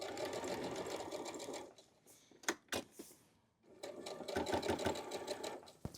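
A domestic sewing machine chain-piecing quilt blocks runs in a fast, steady whir, stops briefly for a few handling clicks and knocks, then starts stitching again, close and fairly quiet with no talk.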